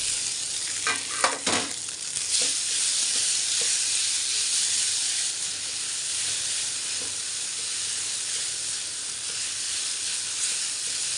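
Puliyogare spice mix is stirred into rice in a hot pan, giving a continuous sizzling hiss with a few scraping stir strokes near the start, steady and close.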